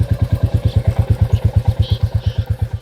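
A 2021 Royal Enfield Classic 350 single-cylinder motorcycle idling close by, its exhaust thumping in a steady, even rhythm of deep pulses with light mechanical clatter above, loud and alone.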